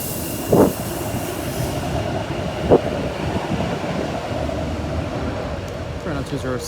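A Sheffield Supertram tram runs along the rails with a steady, close rumble. Two short, sharp wheel squeals rise over the noise early on, and faint clicks come near the end.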